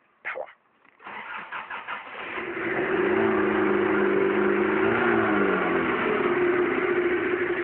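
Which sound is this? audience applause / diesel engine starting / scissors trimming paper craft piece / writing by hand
diesel engine starting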